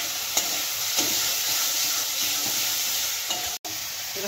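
Spices and meat sizzle and fry in a pot for khichuri while being stirred, a continuous close crackling hiss with occasional soft scrapes of the spoon, no talking.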